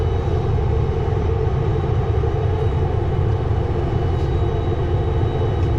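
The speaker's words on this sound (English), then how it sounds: "Turn the engine brakes on." A big rig descends the Strawberry Pass mountain highway toward Rossland with its engine brake on, making a loud, steady low rumbling drone that holds evenly throughout without a break.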